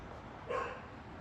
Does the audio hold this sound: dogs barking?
yes